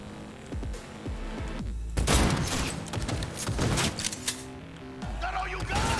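Gunfire in Cyberpunk 2077, a dense fusillade of sharp shots and booms erupting after a quieter start, with rapid bursts and thumps amid game effects.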